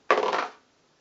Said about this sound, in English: so I get another chance to roll the symbol dice